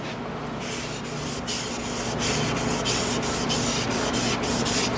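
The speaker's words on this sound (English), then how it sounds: "Do several coats of this and then buff with some abrasive paste and polishing paste" A dry mahogany bowl on a wood lathe is buffed with abrasive and polishing paste, making a continuous, close, rushing rub with faint rhythmic pulses and no voices.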